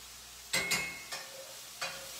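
Mushrooms browning in a pan give a soft sizzle, broken by a few sharp scraping stirs, two close together early and two more spaced apart later.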